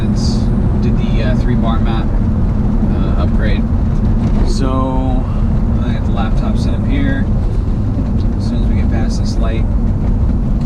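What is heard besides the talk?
2000 Audi B5 S4 car driving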